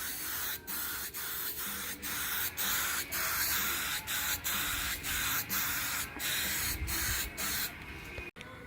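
Spray paint hisses onto steel rock sliders for a Suzuki Sierra Samurai in about a dozen close, loud bursts, each briefly paused before the next.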